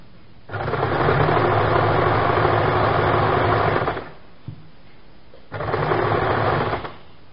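A sewing machine stitches the waistband of palazzo pants in two close, loud bursts, a long run of about three and a half seconds, a pause, then a shorter run.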